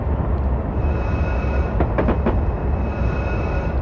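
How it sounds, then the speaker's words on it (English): A train in Train Sim World 2021 rumbles loud and steady with a constant low drone and tonal hum, broken by a few quick metallic clicks near the middle. "Man, the noises that this bus train thingy is making."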